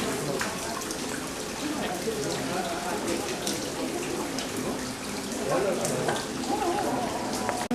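Steady rain falls and drips around stone lanterns at Kasuga Taisha shrine in Nara, a dense continuous patter with occasional louder drops, someone speaking faintly in places.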